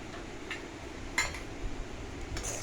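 Plates and cutlery clink faintly and sparsely in a quiet kitchen as roti and fried potato with okra are served, with one brighter clink standing out.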